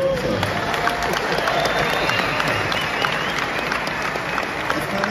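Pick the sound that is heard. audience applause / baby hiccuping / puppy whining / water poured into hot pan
audience applause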